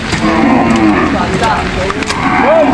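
Several deep moos from cattle, some overlapping, over a busy outdoor background with faint voices, at a livestock auction market in Lucena during heavy rain.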